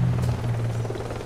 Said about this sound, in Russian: Бегом. Вертушка.